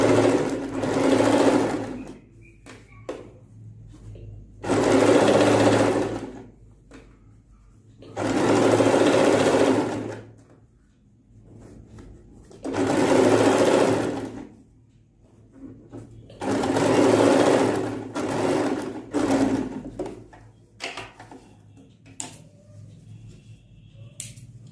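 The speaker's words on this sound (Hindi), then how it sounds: "अगर सिलाई मशीन हो आपके पास तो उसमें आपको बहुत अधिक सुविधा रहेगी" A sewing machine stitches a dupatta for a deity costume, its motor running in five or six close, loud bursts of rapid stitching separated by short pauses, with no talking.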